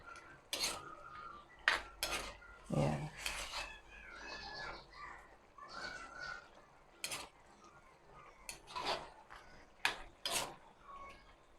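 A spoon or spatula scrapes and knocks against a cooking pan while tomatoes are stirred and pressed down to crush them, intermittent close metallic scrapes and taps in uneven bursts.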